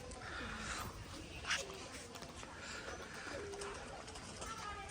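A Giribaz pigeon calls at a farm loft with soft, low cooing among other birds, faint and somewhat distant, while a person talks quietly nearby.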